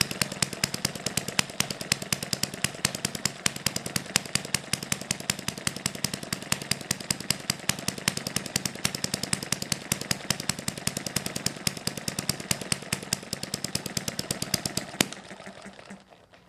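A hit and miss engine runs steadily and loudly, its sharp repetitive firing beats coming in a fast, even rhythm for about fifteen seconds before cutting off and fading away.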